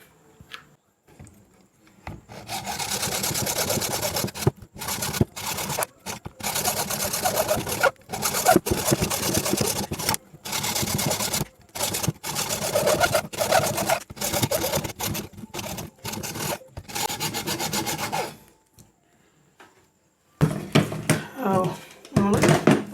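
A workpiece having its sides cut with a power tool, a loud sustained buzzing cut repeated in many bursts separated by short pauses, close up, with a brief different noise near the end.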